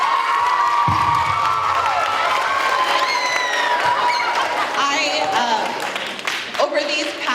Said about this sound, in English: you guys deserve the largest round of applause